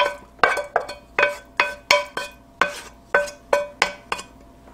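A utensil scrapes and clinks against a skillet as cooked, translucent onions are moved into a bowl for meatloaf, with about a dozen sharp metallic knocks in an uneven rhythm, loud and close, with no talking.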